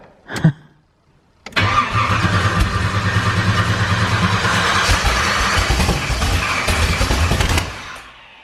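Chevrolet Monte Carlo SS, an abandoned car being revived on fresh 93-octane fuel, cranks briefly after a click, then fires and runs loud and close for about six seconds before cutting off.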